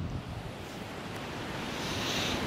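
A mountain stream rushes beside a hiking trail below the Grand Pic de Belledonne near Lac Blanc, a steady broadband wash of flowing water with some wind noise, continuous and fairly faint, with no talking.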